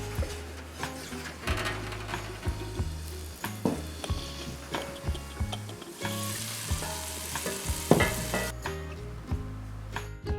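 Potatoes, carrots and onions go into a hot pot roast skillet, giving a steady frying sizzle broken by repeated close stirring and scraping knocks, with no one talking.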